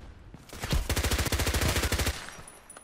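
A loud, close burst of rapid automatic gunfire from the shooter game Contract Wars: roughly twenty quick shots in an even rhythm lasting just over a second, with no voices.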